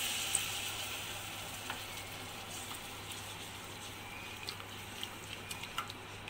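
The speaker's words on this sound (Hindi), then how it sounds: "अब इसी के साथ थोड़ा थोड़ा करके हम मिल्क ऐड करेंगे।" Milk added bit by bit to a pan for a chicken lasagna sauce, with a soft, steady sizzle and faint intermittent clicks of mixing, quiet and close, with no voices.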